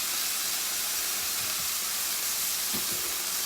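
Deglazing liquid reducing in a hot sauté pan gives a steady, loud, broadband steam hiss that continues without a break, with a few faint low clinks underneath.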